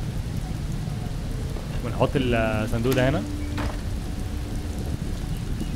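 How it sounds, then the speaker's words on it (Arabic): Rain falls outdoors in a steady, dense patter of close drops that keeps going under a short stretch of speech from a man. "المشكلة في ان الدنيا بتمطر"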